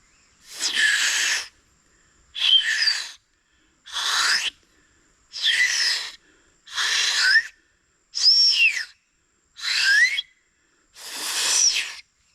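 A series of eight shrill, warbling whistles from a cracked hunting whistle, each about a second long, evenly spaced with short pauses, imitating a bird's call.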